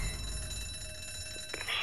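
A rigged alarm bell rings in the video game Zombi, a faint, steady metallic ringing tone heard under quiet background sound.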